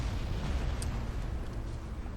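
Ship side guns fire in the space battle game Battlefleet Gothic Armada 2, a dense, continuous rumble of booming gunfire at steady loudness throughout.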